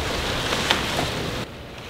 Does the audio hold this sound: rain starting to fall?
yes